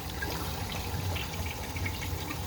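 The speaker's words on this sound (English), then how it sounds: "water just flows in a trickle" Water trickles steadily from the small return pipes of a filtration setup on a 150-gallon aquarium, a continuous close splashing wash with no pauses.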